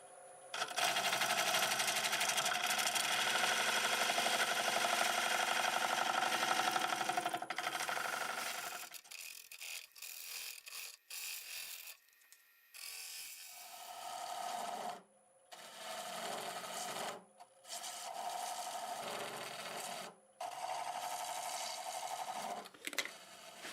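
Wood lathe turning a bowl with a half-inch bowl gouge, a continuous whirring, scraping cut at first, then shorter broken cutting passes separated by brief pauses, moderately close.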